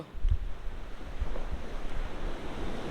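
Sea waves wash onto a beach in Kerala in a steady rushing roar, with wind buffeting the microphone.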